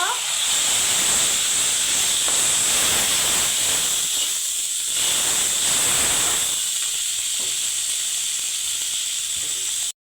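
Onion and ginger paste goes into a hot pan for a chicken dish, setting off a loud, hissing sizzle that starts strong and gradually settles into a steady, softer fizz.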